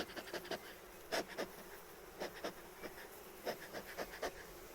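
Honey bees at an apiary in Nowa Aleksandria, heard as a steady low hum punctuated by several loud, close buzzing passes of individual bees flying near, with no talking.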